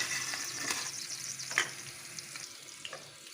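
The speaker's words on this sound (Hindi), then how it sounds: "इसको पूरा फ्राई कर लेंगे रेडिश" Radish pieces fry in a pan with a steady soft sizzle, broken by a few sharper pops and crackles and the occasional stir, quiet and with no voices.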